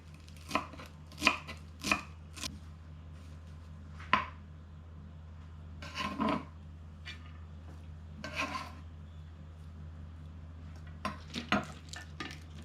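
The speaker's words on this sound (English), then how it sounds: "Let's chop up the ingredients." Cilantro and jumbo green onions are chopped with a knife on a board: quick sharp chops in clusters, separated by pauses and softer scraping of the blade, close up and without speech.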